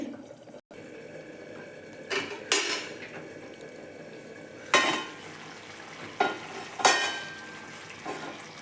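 A spoon stirs a potato and brinjal (eggplant) curry in a pan, with quiet metallic scrapes and clinks recurring every second or two over a low simmering background.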